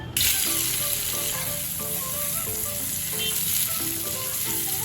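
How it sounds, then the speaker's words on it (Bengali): Boiled potato pieces coated in turmeric and salt fry in hot oil, giving a loud, continuous sizzle from start to finish with faint tonal sounds in the background. "এখন সেদ্ধ করা আলুগুলো একটু ভেজে নেব।"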